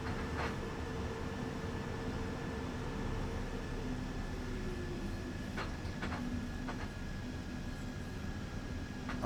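Electric freight train in Train Sim World 6 on the Stuttgart to Heilbronn line, a steady low rumble of traction motors and rolling wheels with faint tonal whine and occasional clicks, continuous and moderately quiet.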